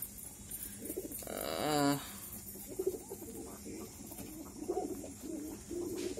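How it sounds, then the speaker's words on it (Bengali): Pigeons coo softly in a coop beside newly hatched chicks, a clear throaty coo standing out once amid faint background calls, with a person talking over it. "আমার কাঙ্ক্ষিত কবুতরটা মাশাল্লাহ বাচ্চা বের করে ফেলছে, বেবি বের করে ফেলছে মাশাল্লাহ।"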